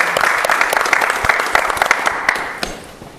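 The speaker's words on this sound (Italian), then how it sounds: "Eccoci qua in studio, un applauso a Junior, 7 gol." Studio audience applause for a player on an Italian football talk show, a dense, steady wash of many hands clapping that fills the room and slowly fades toward the end.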